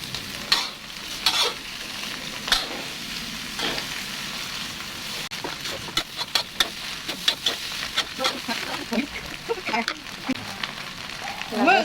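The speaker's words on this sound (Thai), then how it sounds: "เปิดไฟแรงๆเลย ข้าวเราจะได้ ตีแบบตีกับกระทะจะหอมนะทุกคน" Close, continuous sizzling of rice stir-frying over high heat with repeated sharp scraping and clanging strokes of a spatula against a wok, steady and busy throughout.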